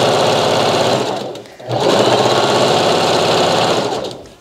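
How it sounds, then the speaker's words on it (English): A sewing machine stitches a double-layer satin bonnet with a fast, steady mechanical hum, close and loud, briefly pausing for a backstitch before running on continuously. "I do backstitch while I'm sewing."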